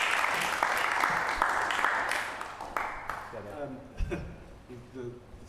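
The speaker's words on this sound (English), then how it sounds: "give Colin a round of applause, please" Audience applause for a man called Colin at an outdoor community festival in Sharrow, a broad crowd clapping that fades over a few seconds as voices start to talk over it.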